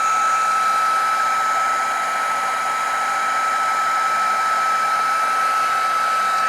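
A heat tool blowing hot air, a loud, steady whirring roar with a constant tone, running continuously without pause and with no talk.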